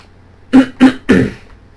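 Three close throat clearings in a row from a German-speaking Minecraft commentator, each a short rough burst, near and fairly loud, with no talk in between.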